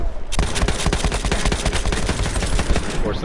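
Fully automatic rifle in Battlefield 1 firing a rapid, loud, continuous burst of evenly spaced shots lasting about three seconds, close up and dominating the scene.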